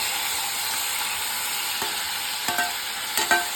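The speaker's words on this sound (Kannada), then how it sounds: "ಹಾಗೆ ಕರಿಬೇವು ಎಲ್ಲ ಹಾಕಿ ಮಿಕ್ಸ್ ಮಾಡಿ" Green chillies, tomato, onion and curry leaves are stirred in a hot pan for cabbage palya, giving a steady close sizzle with a few sharp scraping clicks of the spoon toward the end.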